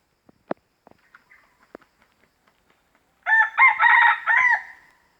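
Red junglefowl delivering a single loud, clear crow of several syllables, preceded by a few faint scattered clicks and taps in an otherwise quiet setting.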